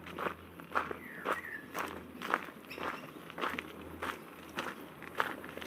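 Footsteps crunch through dry, parched bushland beside a coastal wetland, a steady walking rhythm of close crackling steps over leaf litter and twigs.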